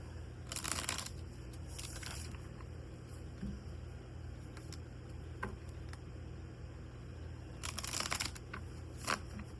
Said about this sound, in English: Let me give them a shuffle.